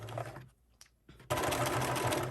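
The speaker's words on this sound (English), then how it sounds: "sew together your short 5-inch seam" A sewing machine runs a short quarter-inch seam on sublimated fabric for a scrunchie, a steady close motor whir that pauses briefly midway, then resumes louder with stitching rattle and backstitching at the ends.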